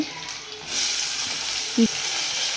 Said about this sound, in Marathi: मी आता दाल खिचडी बनवते, त्याच्यासाठी फोडणी देते.